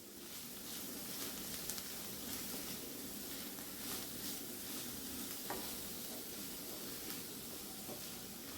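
Cabbage thoran sizzles and hisses steadily in a pan while being stirred, with a constant frying crackle and occasional scraping clicks from the spoon.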